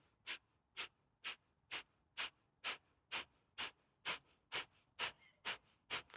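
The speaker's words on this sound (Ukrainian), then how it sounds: "дихання капала хаті, різкий видих через ніс, на видисі живіт йде до хребта" Sharp forced nasal exhalations of kapalabhati yoga breathing, thirteen short puffs at an even brisk pace about two per second, close and soft with quiet gaps between.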